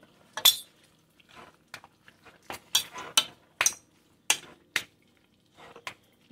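Utensils clink and scrape in a bowl while homemade oven-toasted stuffing is stirred, a series of separate sharp metallic taps and scrapes at an uneven pace, close and fairly loud over quiet surroundings.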